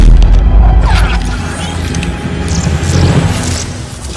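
A red solar grenade goes off in the Injustice 2 cutscene, opening with a deep, loud boom and then a rumbling, mechanical rush that fades and swells over about four seconds.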